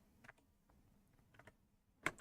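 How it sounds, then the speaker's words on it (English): Sparse, soft key presses on a computer keyboard, a handful of separate clicks with a slightly louder tap near the end, in an otherwise quiet room. "So if I tap on the keyboard, this doesn't seem too loud."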